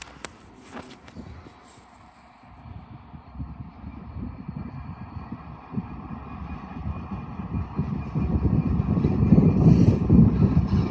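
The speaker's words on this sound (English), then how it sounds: "arriving in now is a Northern Turbo Star, it's bound for Sheffield" A Northern Turbostar diesel train bound for Sheffield pulls into Doncaster station, a low engine rumble and rolling rail noise that swells gradually as it draws nearer.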